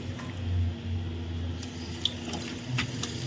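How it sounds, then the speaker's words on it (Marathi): Coriander leaves are washed by hand in water, giving soft splashing, squishing and trickling sounds close by, with a faint steady hum underneath and no talking. "चला इथे कोथंबीर धुवून घेते मी"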